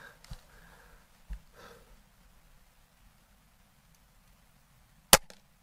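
A Gamo Swarm Viper .22 air rifle fires outdoors, a few sharp distinct cracks spaced apart, the loudest near the end, with quiet in between.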